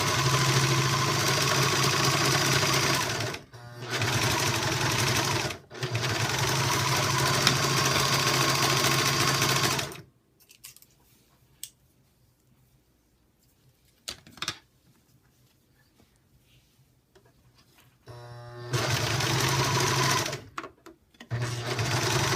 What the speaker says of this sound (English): you're literally just serging it